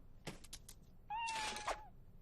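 A kitten gives a couple of short, soft meows, then one longer, rising mew, close by in a quiet room.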